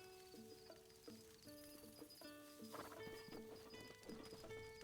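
Horse hooves clip-clop in an even walking rhythm in Breath of the Wild, faint and set under a bright melodic game music score.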